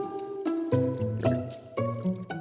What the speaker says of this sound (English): I'll be continuing the acclimation process by scooping this water on top of him